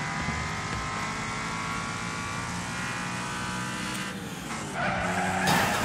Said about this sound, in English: I hear my tires flapping or something.